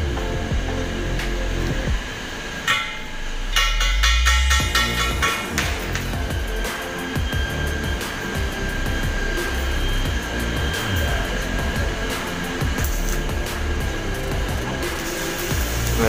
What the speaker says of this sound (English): Welding stainless, stainless steel guys, piping, stainless steel.